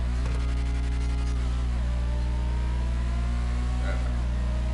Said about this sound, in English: This car sounds like a Formula 1, which they need to put into the game.